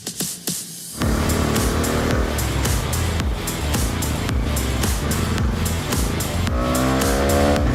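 A Bajaj Dominar 250 motorcycle engine roars up close and loud on the road, revving hard and steadily, its pitch climbing near the end as it accelerates.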